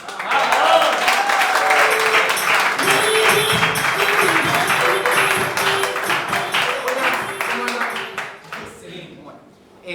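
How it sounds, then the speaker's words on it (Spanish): A stand-up comedy audience gives a steady burst of applause for the comedian, loud and sustained for several seconds before fading out, while a voice talks over it. "Un aplauso a Rodrigo Sen."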